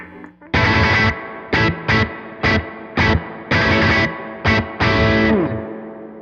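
Fender Japan JG-66 electric guitar through an amp with spring reverb and drive plays aggressive surf-style bursts: a series of loud, distorted chord stabs in an uneven rhythm, each cut short, with a reverb tail trailing the last.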